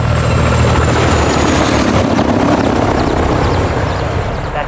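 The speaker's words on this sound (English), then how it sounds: "Got a heli incoming." A helicopter approaches in the video game Modern Warfare II, a loud, continuous rotor drone and engine roar that holds steady throughout with no voices over it.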